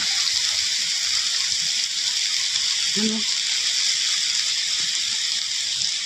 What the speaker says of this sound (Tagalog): So ayun na nga pala yung ulan, napakalakas ng ulan.